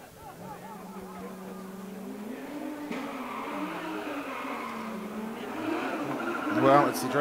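Drift cars from the D1NZ Pro-Sport Restricted class at Mt Smart drag race down the front straight, engines droning and rising in pitch together, with a brief tyre or impact burst near the end, under continuous commentary.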